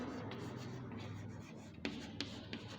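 A teacher writes the word unhappy in a classroom, a soft scratchy rubbing of chalk or pen across a board, ending in a few sharp taps as strokes finish.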